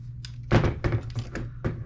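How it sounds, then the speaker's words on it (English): A stuck bolt on a vehicle lift's elevator arm adapter is banged loose, giving a string of sharp, close metallic knocks and thunks at an uneven rhythm. "This one's a little bit stuck, so I'm just gonna bang it real quick."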